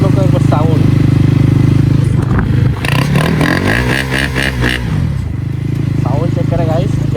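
A KTM Duke 250 Gen 3 motorcycle with its exhaust removed idles loudly up close, with a short burst of raspy revving in the middle before settling back to a rough, throbbing idle as someone talks over it.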